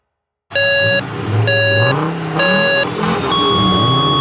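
Cartoon race vehicles start off: three short electronic countdown beeps, then a longer higher tone, over loud engines revving and rising in pitch as the vehicles pull away.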